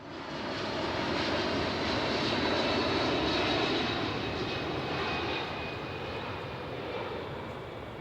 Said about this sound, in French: il y a des avions qui décollent ou qui atterrissent dans l'aéroport à moins de 300 mètres de là